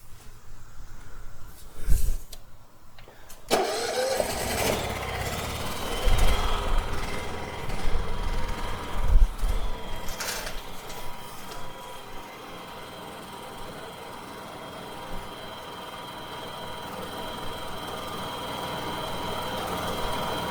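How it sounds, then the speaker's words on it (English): A large Honda portable generator starts up abruptly after a short quiet stretch, then holds a steady, loud mechanical engine drone with a continuous broadband roar that stays even for the remainder of the clip. "here we go with the big Honda"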